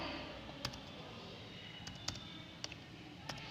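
A few soft, scattered keystrokes on a computer keyboard during HTML coding, faint and spaced out over a quiet background hiss.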